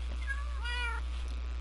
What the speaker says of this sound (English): you hear constant meow, meow, meow, meow, meow, meow